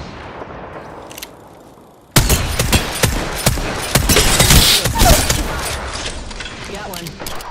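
Rapid gunfire in the Apex Legends video game: after a quieter stretch, a loud burst of automatic shots erupts and continues in dense, cracking volleys with booming impacts.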